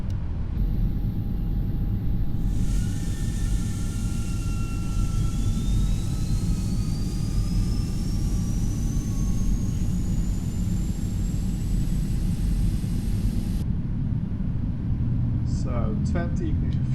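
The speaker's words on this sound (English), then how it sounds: "go start engine number 2" A PMDG Boeing 777-200ER jet engine spooling up during start in a Prepar3D flight simulator, a steady rumble with rising turbine whine tones climbing over many seconds before cutting off, heard alone.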